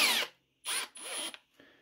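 A Milwaukee M12 cordless drill on speed two whirs in three short bursts separated by brief pauses, each burst close and fairly loud, with no talking.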